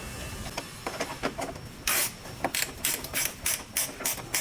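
Hand ratchet tightening the bottom screw of a Toyota Camry mudguard, a run of quick, close clicking bursts that grow louder and sharper partway through, with no talking.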